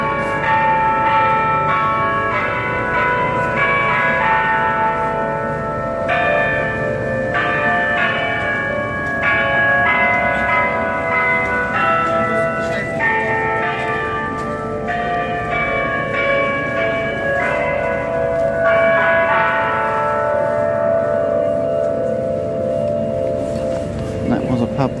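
Bells of a Catholic church chime in a long, continuous peal, overlapping strikes ringing out clearly and fairly loud throughout, with a faint hint of voices beneath.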